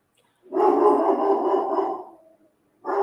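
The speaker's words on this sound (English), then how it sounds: "There's my dog." A dog gives one long, loud, close bark-whine that drags on for about two seconds, then starts another bark right at the end, with no talking over it.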